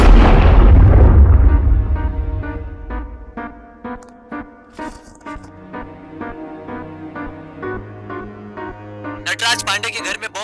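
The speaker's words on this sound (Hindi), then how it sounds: "नटराज पांडे के घर में बॉम्ब विस्फोट हुआ है" A huge bomb blast goes off in a house in a dubbed action film, opening with a massive close boom that rumbles and decays, followed by a run of rhythmic booming hits and a burst of sharp crackle at the end.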